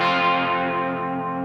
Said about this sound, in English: So vibrato mode, the speed is set at about half.